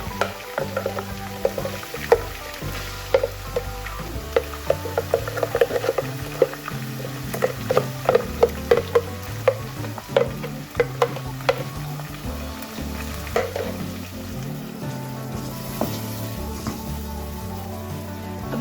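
Spices for a beef pasanday gravy frying in a pan with yogurt masala and browned garlic, a steady close sizzle broken by frequent clicks and scrapes of stirring throughout, with no talking.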